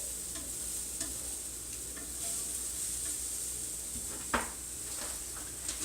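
Chocolate peanut butter protein pancakes sizzle steadily in a pan, a continuous close frying hiss with a few faint scrapes and one sharper clink partway through.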